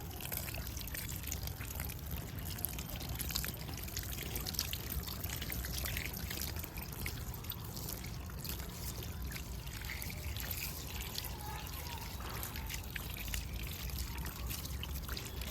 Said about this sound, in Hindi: देखो भाई इस तरह पानी दे दिया है, दे लो, एक भी बाहर नहीं निकली।